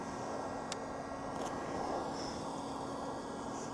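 Drone flying overhead on an Australian farm in winter, a steady airy whine and hiss that holds constant throughout, at moderate distance, with no talk.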